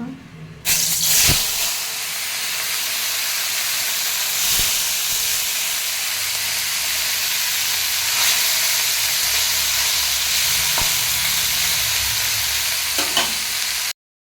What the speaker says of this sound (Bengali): মাছগুলো নুন হলুদ মাখিয়ে নিয়েছি এবার ভেজে নেব